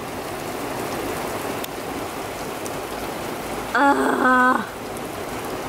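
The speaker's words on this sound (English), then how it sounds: "It is way too heavy of a rain. This is not a sprinkle." Heavy rain pouring down in Florida, a dense, steady hiss of drops close by that continues throughout, with a brief groan from a person partway through.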